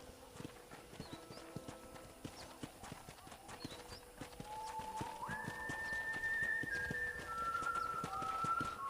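Steady, rhythmic clip-clop of a horse's hooves being ridden in Red Dead Redemption, continuous and fairly close, with high whistling tones joining in the second half.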